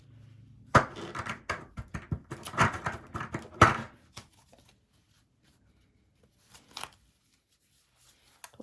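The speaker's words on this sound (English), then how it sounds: "I'm going to try to shuffle them against the bend and see if that helps." Transparent plastic tarot cards being shuffled, a quick flurry of crisp riffling clicks and flaps up close for several seconds, then near silence with a couple of faint taps.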